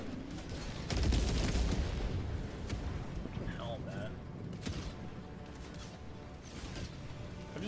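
Mortar fire in the video game Payday 3, with heavy booming impacts, the loudest early on, followed by rumbling blasts and scattered gunfire as a player talks over it.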